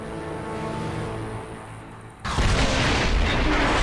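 A cannon is destroyed in StarCraft 2, heard as a sudden loud boom that cuts in after a low rumbling game soundscape and keeps roaring to the end.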